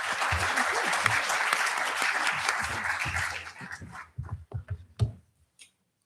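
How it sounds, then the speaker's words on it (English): Conference audience applauding panelists at an economics conference, dense clapping for about three and a half seconds before thinning into scattered individual claps and silence. "let's extend a warm applause for our panelists."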